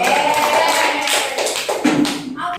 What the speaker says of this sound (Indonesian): boleh tepuk tangan untuk kelompok kami